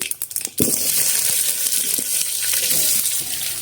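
Curry leaves and onion tipped into hot oil with spluttering mustard seeds, a few sharp crackles then a sudden loud, steady sizzle that keeps hissing evenly.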